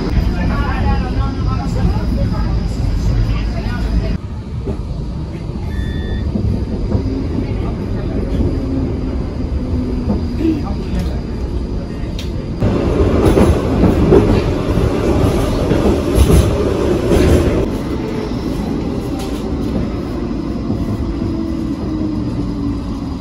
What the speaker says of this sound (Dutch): Random tram staat klaar, het wordt lijn 15.